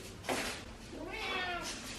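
A house cat meows close by indoors in an English countryside home, giving a couple of drawn-out, wavering meows one after another.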